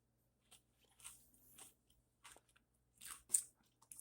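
Crisp crunching of bacon bits being chewed, in several bursts with short pauses between, close and fairly quiet.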